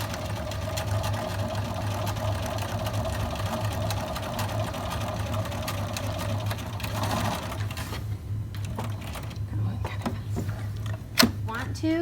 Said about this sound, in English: Sew a straight stitch, and remember to back stitch at the beginning and at the end.